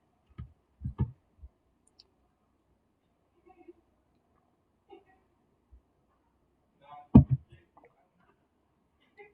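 A computer mouse gives a few sharp, sparse clicks close by during Windows setup, with a cluster early on, isolated taps, and another pair later against near silence.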